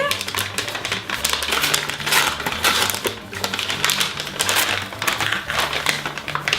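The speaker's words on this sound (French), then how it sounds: "On va ouvrir le petit paquet." A small Birchbox beauty subscription package being opened, with dense crinkly rustling and tapping of packaging running continuously and fairly close, while a low musical background plays underneath.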